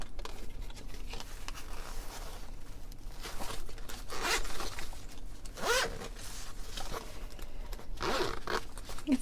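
Zipper of a stuffed pencil case drawn closed in several short, raspy pulls with pauses between, close and fairly loud with no voices.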